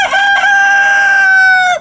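A rooster on a farm in High River, Alberta crows once, loud and close, a single drawn-out call under two seconds long that trails off at the end.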